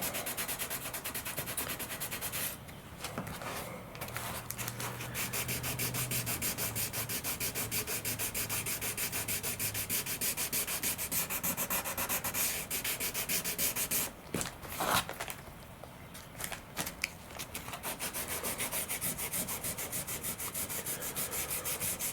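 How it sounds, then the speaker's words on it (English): Sandpaper rubs over the tip of a composite RC sailplane wing in a steady, close, rhythmic scratching that runs on with brief pauses and no talking. "And when I get it fairly close, I'll move to 1500 grit sandpaper."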